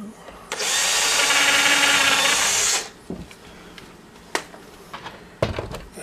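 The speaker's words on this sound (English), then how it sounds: "Drill the top too." A power drill whirs loudly and steadily for about two seconds while drilling during a window shade installation, then stops, followed by scattered knocks and clatter of tools.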